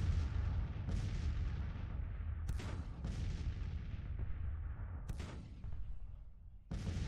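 Artillery fire in the Civil War strategy game Grand Tactician booms in a rolling, distant barrage, with repeated heavy cannon reports landing every second or so over a low rumble.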